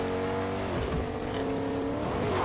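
A car engine in the video game Fortnite hums steadily as the vehicle drives, a continuous mid-level motor drone with faint tire noise and no voices.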